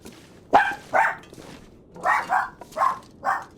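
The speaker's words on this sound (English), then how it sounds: "Sorry, my dogs hear any kind of sound and they think it's at our door" Several dogs barking in short sharp yips, about six barks in two quick clusters, close and fairly loud.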